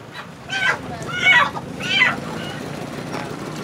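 Several chicken clucks and squawks nearby, three distinct calls over a low background murmur.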